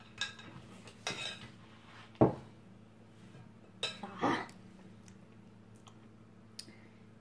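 Metal spoon scooping financier batter and filling greased cake molds, making a few sparse, quiet clinks and taps with soft scraping in between, heard close and without talk.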